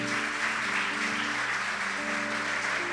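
A church congregation claps during a Spanish-language service, a dense, loud round of applause over sustained music with held organ-like tones underneath throughout.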